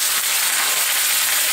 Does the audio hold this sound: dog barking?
no